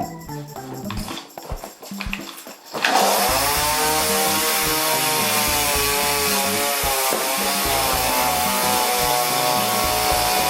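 After a few seconds of faint clatter, a chainsaw starts and runs loud and steady, its engine whining close by.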